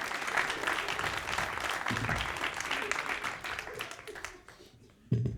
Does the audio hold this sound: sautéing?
no